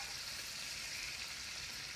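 Sliced smoked sausage fries in bacon grease with a soft, steady sizzle and faint crackle throughout, quiet and close with no talking.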